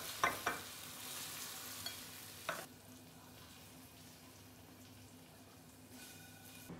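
Sauce for braised chicken feet cooks down in a pan over high heat, giving a steady close sizzle and bubbling with a few sharp stirring scrapes early on; no one speaks.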